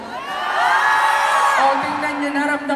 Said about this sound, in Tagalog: Sigaw nga nasa taas, sigaw!